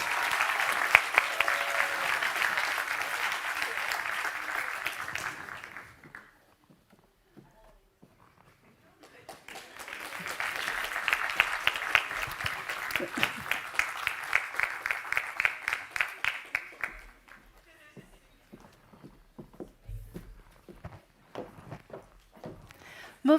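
Audience applause at a master's graduation ceremony, two dense bursts of clapping from a large crowd separated by a quiet pause, the second wave thinning out into scattered claps near the end.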